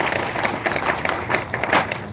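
A crowd at a National Unity Platform leadership school graduation claps steadily for the graduates, a dense, continuous wash of applause at moderate distance with faint voices mixed in.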